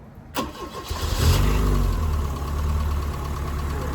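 An Opel GT engine, fresh spark plugs just fitted, cranks briefly and catches, then settles into a steady, close, rumbling idle with no talk.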